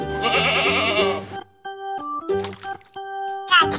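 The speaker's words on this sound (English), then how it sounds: "Goat." A goat bleats in a long wavering cry, then gives a few shorter, broken bleats, close and loud, ending with a brief harsh burst.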